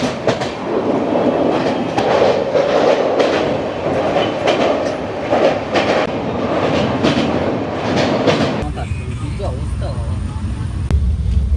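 A passenger train travelling at night from Kolkata towards Darjeeling rolls along with a loud, rhythmic clickety-clack of wheels over rail joints, heard from inside the carriage with voices in the background; the sound grows duller near the end.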